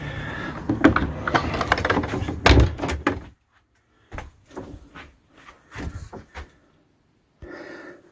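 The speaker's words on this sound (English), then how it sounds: "and now I'll shut the shed door" A wooden garden shed door swinging shut, with scraping and rattling followed by a string of knocks and thumps as it closes and latches, close and fairly loud, with gaps of quiet between the sounds.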